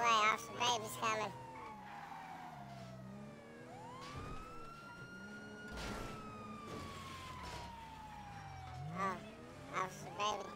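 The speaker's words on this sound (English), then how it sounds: "you hear the sirens, get out of the way" A video game police siren wails, rising and falling in long sweeps over engine noise, with brief bursts of talk at the start and end.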